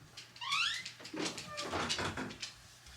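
A pet whines at a door at home, a high rising whimper followed by squeaky, plaintive vocal sounds, fairly close and moderately quiet.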